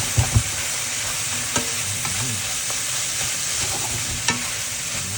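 Holy basil and fish roe stir-fry in a hot pan, a loud steady sizzle broken by a few sharp clacks of a spatula scraping and tossing the mixture, close up with no talk.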